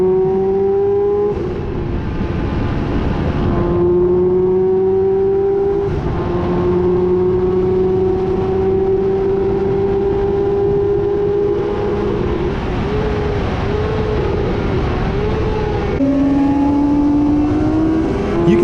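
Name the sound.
racing motorcycles accelerating past on Dubai Autodrome straight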